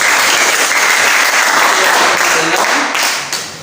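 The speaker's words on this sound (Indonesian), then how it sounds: "Baik, tepuk tangan." Applause in a classroom, a steady dense burst of clapping from many pupils that stays loud throughout and begins to thin out near the end.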